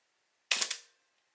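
A single firing of a Pentax 6x7 medium format film camera's shutter and mirror: one sharp, close mechanical clack with a brief rattling slap and quick fade, isolated in quiet.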